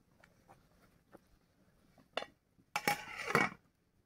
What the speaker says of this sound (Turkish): Hemen tavamı da koyayım.